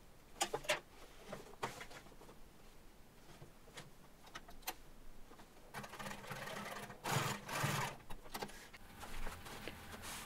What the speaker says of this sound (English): Attach at the waistline with a few back and forward stitches